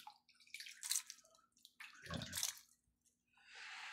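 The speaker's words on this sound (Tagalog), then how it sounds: "Ngayon didiligan ko siya, kukuha lang ako dito sa pond para masustansya yung tubig galing sa pond." Pond water is poured over freshly planted garden plants, giving a few splashing, trickling bursts with brief pauses between pours, close and fairly quiet.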